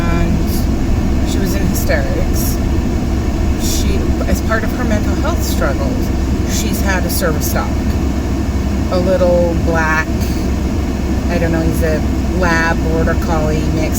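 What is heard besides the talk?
car air conditioning running inside a parked car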